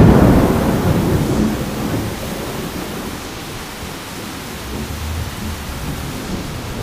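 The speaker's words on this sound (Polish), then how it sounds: "Czwarta minuta burzy." A thunderstorm in the mountains of the Sierra Gorda in Querétaro, Mexico, brings a dense, loud, steady roar of heavy rain with deep rumbling thunder that swells at the start and then eases slightly.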